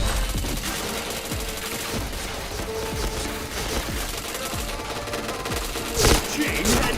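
Gunfire in the shooter game Point Blank, with rapid clusters of sharp shots crackling in bursts and a few louder impacts near the end, heard over a steady game backdrop.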